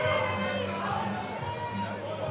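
Crowd noise rising in support of a female weightlifter at a Home Nations competition session, a steady murmur of voices and some cheering that fills the hall throughout.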